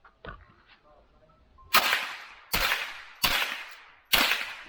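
Four loud, sharp gunshots at an outdoor shooting range, spaced roughly a second apart, each ringing briefly before the next, preceded by a fainter earlier crack and quiet background.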